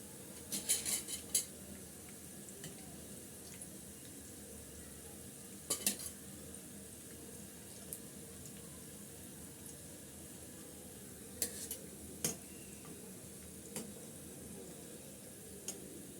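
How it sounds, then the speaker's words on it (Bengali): Fried potato-stuffed snacks are lifted out of hot oil with a metal utensil, giving a few sharp scraping clinks against the pan over a faint, steady sizzle. "এখন আমি তেল ঝরিয়ে উঠিয়ে নিচ্ছি নাস্তাগুলি"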